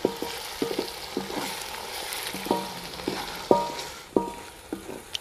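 Garlic and ginger paste frying with lightly browned onions in a pan for a village-style fish curry, a steady close sizzle broken by repeated scraping stirs with a spoon against the pan.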